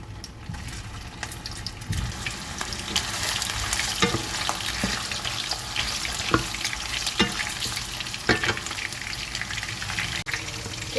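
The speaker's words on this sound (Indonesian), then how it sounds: "kita panaskan minyak di kompor sebelahnya untuk menggoreng bakso" Meatballs (bakso) fry in hot oil on a stove, giving a continuous close sizzle scattered with small crackles and pops throughout.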